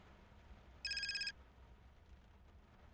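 A telephone gives one short electronic ring, a brief pulsing burst that stands out against a faint, quiet room background, with no one speaking.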